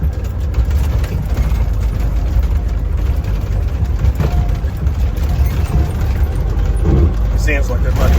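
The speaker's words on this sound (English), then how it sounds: "Just about to drive into the property here where the old Mack is." An old Mack FR700 cab-over truck with a GM engine drones loudly and steadily from inside the cab as it drives onto a rural property, its low engine rumble running throughout.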